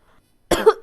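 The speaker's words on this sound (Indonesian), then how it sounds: "Kalau kamu dengar aku suaranya batuk-batuk, mohon dimaklumin." A single harsh, close cough bursts out after a moment of near silence, loud and brief with a rough throaty texture and a short trailing catch.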